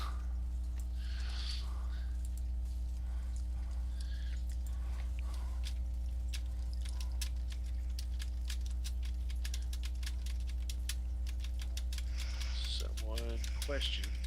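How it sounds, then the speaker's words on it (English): Steady computer-keyboard typing, rapid irregular key clicks running under a constant electrical hum, with a voice speaking briefly near the end. "No, sorry, I'm typing."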